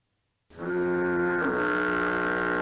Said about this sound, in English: There we go. There, yes, the foghorn.